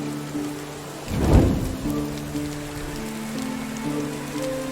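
Steady rain falls in the medieval village game Medieval Dynasty, a soft constant hiss with a deeper rumbling swell near the start like distant thunder, under low game tones and no speech.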